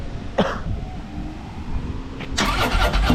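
A motorcycle engine, likely a 2006 Honda Shadow or 2015 Harley-Davidson Street Glide, cranks with a brief burst and then catches at about two and a half seconds, settling into a loud, rough, close idle.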